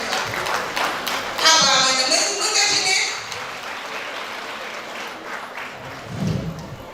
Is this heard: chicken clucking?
no